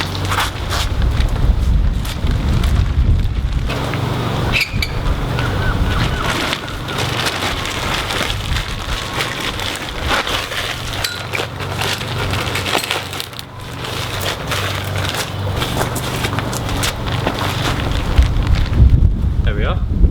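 Strong UK wind gusts buffet the microphone outdoors, with a loud continuous roar that swells and dips, alongside scattered creaks and knocks.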